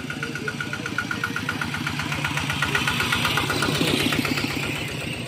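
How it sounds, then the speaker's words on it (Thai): Farm vehicle engine chugging steadily while hauling rice to the paddy fields, a close, loud, rhythmic knocking idle that stays constant throughout with no talk. "อันนี้เขาใช้อย่างยานพาหนะแบบนี้นะคะไปท้องนาเขาค่ะ"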